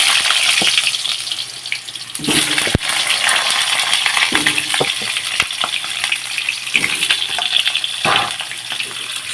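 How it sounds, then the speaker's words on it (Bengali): Potato pieces fry in a hot pan with a steady bright sizzle, broken by a few sharp clinks and stirring scrapes, close and fairly loud throughout with no talking. "এখন আমি আলুগুলো ভেজে নেব"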